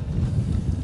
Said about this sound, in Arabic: فمثل ما تلاحظ في هواء عالي الحين